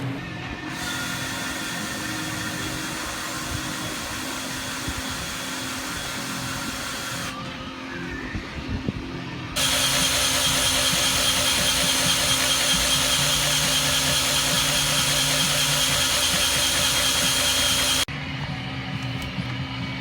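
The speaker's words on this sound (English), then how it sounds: "I'm going to spin the drill clockwise on a low speed" A power drill turns an engine clockwise at low speed to build oil pressure during cam break-in, giving a steady close mechanical whir that stops briefly and then resumes as a louder, denser grinding drone.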